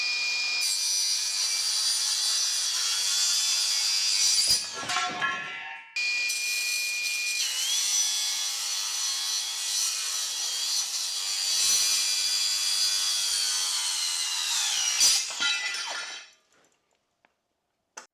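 Loud, continuous high-pitched shriek of a regular circular saw with a Diablo Steel Demon blade slicing through steel, broken by a brief pause midway, then the blade spins down into silence.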